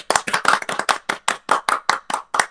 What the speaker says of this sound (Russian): Аплодирую.